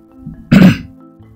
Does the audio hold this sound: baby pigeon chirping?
no